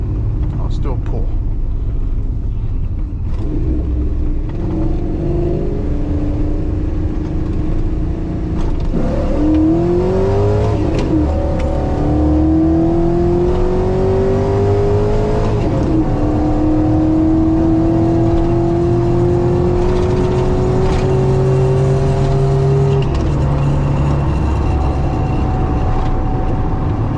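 A cammed V8 GMC Sierra pickup with a TR6060 six-speed manual roars under full-throttle acceleration, its pitch rising steadily through long gear pulls, loud and close with a deep rumble beneath.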